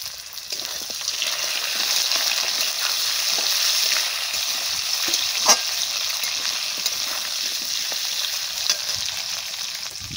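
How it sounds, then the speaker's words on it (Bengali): Potatoes and tomatoes fry in a pan, giving a loud, continuous sizzle with soft scraping as they are stirred, and no one talks. "আলু আর টমেটোটা দিয়ে একটু ভাজা ভাজা করবো"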